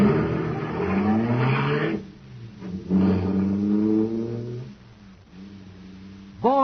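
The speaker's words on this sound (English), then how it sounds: "that cosmic surface car is really roaring" A supercharged car engine, running on super fuel in an old radio drama, roars and revs in repeated rising surges, loud and close, broken by short dips between the bursts.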